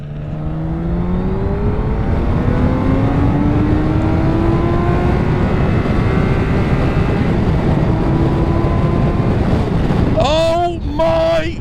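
A BMW K 1600 GT motorcycle accelerates hard on an open road. Its loud engine climbs steadily in pitch through the gears under heavy wind rush, with a shift and a fresh rise near the end.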